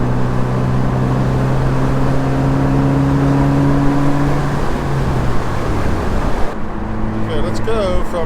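A car fitted with an RPM Motorsports Stage 2 kit accelerates through the gears from fourth, its loud engine drone rising steadily in pitch before a shift and a quieter, different engine tone near the end.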